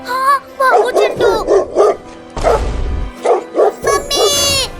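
A cartoon dog barks loudly and repeatedly in a quick, rhythmic string of yelping barks, close and prominent, with a short burst of noise partway through.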